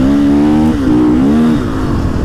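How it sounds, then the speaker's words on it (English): A KTM 500 four-stroke single-cylinder motorcycle engine revs hard and over-revs in its enduro map, a loud, close, continuous rising and falling engine note with steady pitch sweeps and no talking. "that over rev is so good"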